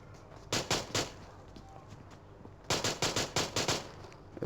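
Pistol gunfire in a battle royale video game, fired in two rapid bursts of sharp shots with a quiet gap between them and no talking.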